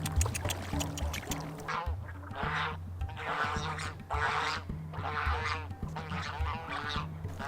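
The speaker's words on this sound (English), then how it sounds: "Some nosy swans here." Swans honk repeatedly outdoors, a chorus of nasal overlapping calls that comes in rhythmic bursts, fairly close and fairly loud, with no voices over them.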